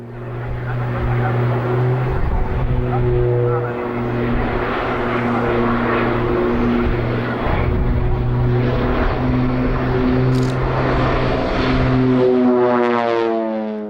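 An OV-10 Bronco twin-turboprop, a former Luftwaffe target tug, flies at an airshow with a loud continuous propeller drone whose pitch sweeps and shifts as it manoeuvres, filling the whole stretch.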